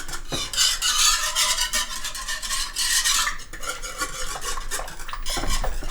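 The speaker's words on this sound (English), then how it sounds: "teaspoon of xanthan gum in here. And I'm going to stir that around." A whisk stirs xanthan gum into hot pork chili verde in a pot, giving brisk scraping and clinking strokes against the metal, close and continuous with a faint sizzle underneath.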